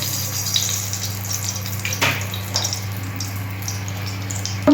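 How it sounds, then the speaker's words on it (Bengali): Magur catfish pieces fry in hot oil with a steady, close sizzle and faint crackles, alongside a low constant hum and no talking. "মাছটা রান্না করার জন্য ওই তেলে দিয়ে আমি আরেকটু তেল দিয়ে দিচ্ছি"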